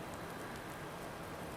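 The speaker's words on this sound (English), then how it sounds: "the rain is just about stopping" Steady, faint rain falls in the farming game American Life Farming, an even hiss of drops with no other sounds.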